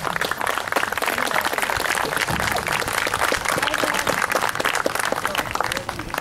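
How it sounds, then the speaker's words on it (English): Audience applause for the teachers from Lac du Flambeau at a birchbark canoe launch event, a steady, dense wash of clapping that holds loud and even for several seconds with faint voices mixed in. "So let's give our teachers from Lac du Flambeau a round of applause."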